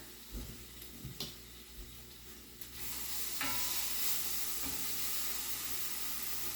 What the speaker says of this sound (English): So while I'm preparing other stuff, I got the onion, garlic, sun-dried tomatoes going in there.